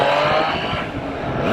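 A Triumph Trident 660 motorcycle engine revs loudly and close by, a short sustained growl with shifting pitch, heard alone without speech.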